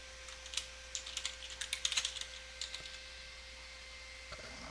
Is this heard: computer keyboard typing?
yes